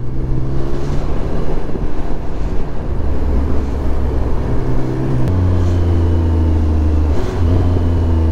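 A 2023 Triumph Speed Triple 1200 RS motorcycle engine drones at a steady, close engine note that steps to a new pitch partway through, with wind buffeting over it and no talk.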